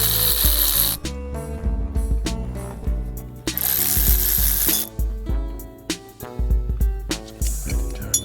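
A ratchet fitted with a 13 mm socket loosening intake bolts on a Dodge B1500 van, clicking in bursts with metallic clanks between them, close and fairly loud.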